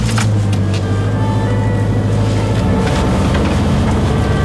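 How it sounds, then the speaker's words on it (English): A car engine drones steadily while climbing a steep hill in a high gear, producing a loud, continuous low rumble with wind and road noise and no talking. "Even I can't drive up this in fourth gear."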